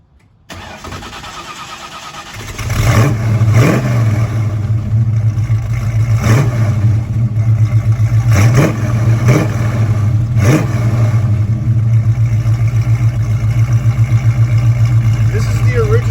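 A 1969 Ford Mustang Mach 1 V8 engine cranks and fires up, then settles into a loud, steady rumbling idle punctuated by several sharp revs at regular intervals.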